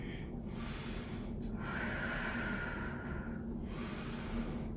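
Slow nasal breathing during a seated yoga hip stretch, two or three long inhales and exhales close to the microphone, fairly soft and with no speech.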